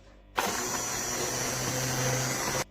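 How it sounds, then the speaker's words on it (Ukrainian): A blender purées raspberries, whirring steadily for about two seconds, starting and stopping abruptly, a loud continuous motor drone with no talking. "Малину знову ж перебиваємо блендером."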